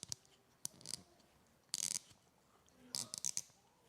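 A quarter-inch screw driven through 3D-printed plastic threads gives a few short bursts of dry, ratcheting clicks and grinding, separated by near silence; quiet and close, with no voice.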